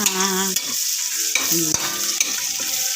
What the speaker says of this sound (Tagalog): haluin siya yung karne sa bawang at sibuyas na ating ginisa